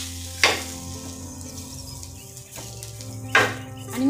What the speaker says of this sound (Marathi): कांदा फोडून घ्यायचा म्हणजे व्यवस्थित असा आतून बाहेरून पूर्णपणे परतवून निघतो कांदा